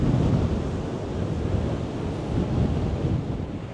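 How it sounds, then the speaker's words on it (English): Strong gusting wind of about 55 mph roars across the microphone while rough sea surf churns at Blackpool on a wild Saturday night, a dense, continuous wash of noise with no voices. "No wonder with the 55 mile an hour gusting winds."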